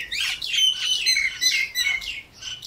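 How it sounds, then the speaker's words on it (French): Small birds sing outdoors near a home, several bright chirping and warbling phrases trading off close by in quick, lively bursts with short gaps between them. "C'est le concert des oiseaux chez moi"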